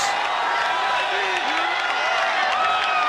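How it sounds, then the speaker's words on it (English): A stadium crowd in Arlington at Game 5 of the 2010 World Series applauds and cheers as the Giants clinch, a steady wall of clapping and shouts with a few whistles riding over it. "listen to these fans as that celebration happens"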